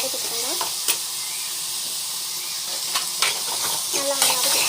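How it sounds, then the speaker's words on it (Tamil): Asafoetida being sautéed in a pan, giving a strong constant hiss of frying with a handful of soft spatula taps and stirring scrapes on top. "நல்லா வந்து வதக்கிக்கணும்"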